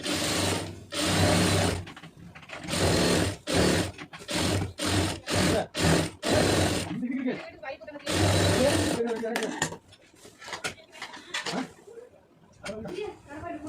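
A sewing machine stitches a puff sleeve in rapid bursts of whirring, starting and stopping repeatedly at close range, with quiet handling noises and a voice between runs.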